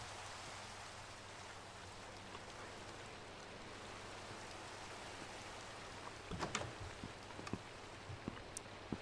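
Minecraft rain falls over a lake in a steady, soft hiss of drops, a continuous wash with a few faint clicks and taps near the end and no talk.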